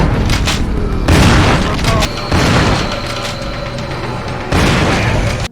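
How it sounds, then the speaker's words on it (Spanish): Loud shotgun blasts from the Resident Evil 4 beta video game, several heavy booming shots with mechanical pump sounds between them and speech mixed in. "También otro efecto de sonido para la escopeta."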